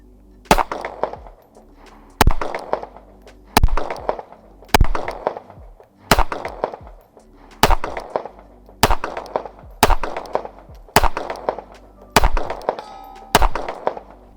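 A Smith & Wesson Bodyguard pistol fitted with a factory Viridian optic fires about ten sharp, loud shots at a steady pace roughly a second and a half apart, each followed by a brief ringing tail.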